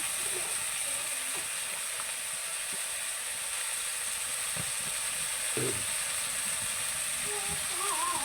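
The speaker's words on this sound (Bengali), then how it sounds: "আমি আলু দিয়ে পটল দিয়ে ভাজি করবো, এই জন্য আগে আমি আলুগুলো ভাজে দেব।" Potatoes frying in hot oil in a pan, a steady close sizzle and crackle holding throughout with a few scrapes of stirring, no voice.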